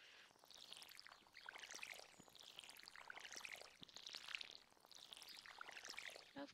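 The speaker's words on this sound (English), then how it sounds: "And then, of course, we have to water." Water pours from a watering can onto crops on a Stardew Valley farm, heard as soft, repeated splashing sweeps at a steady rhythm, quiet and without talk.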